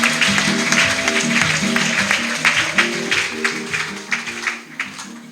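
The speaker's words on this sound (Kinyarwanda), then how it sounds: "Dukomere Imana amashyi menshi cyane." A crowd at a wedding ceremony claps in rhythm along with music, the applause strong at first and then thinning into scattered, louder individual claps.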